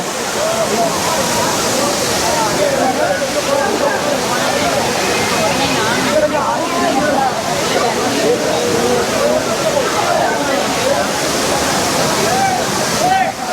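Loud, constant rushing water of the Main Falls at Courtallam pours down without pause, a dense roar with bathers talking faintly underneath.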